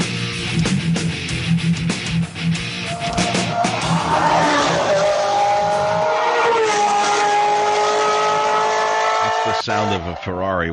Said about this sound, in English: Sound of a Ferrari when it was still a Ferrari